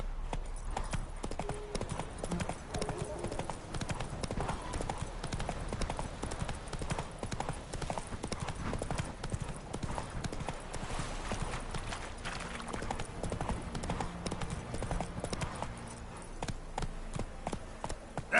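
Roach, a horse in The Witcher 3 game, gallops with steady rapid hoofbeats throughout, a continuous clip-clop rhythm up close, with an occasional whinny and a voice briefly calling out over it.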